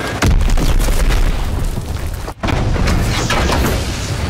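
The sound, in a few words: enemy bomb exploding in a video game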